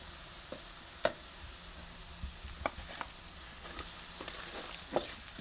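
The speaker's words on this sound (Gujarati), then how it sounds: "હવે આપણે આ ગાંઠિયાનો ભૂકો નાખી દઈએ" Crumbled gathiya goes into a frying pan for gunda (gumberry) curry and gets stirred, a soft steady sizzle under scattered spoon clinks and scrapes against the pan, close and fairly quiet.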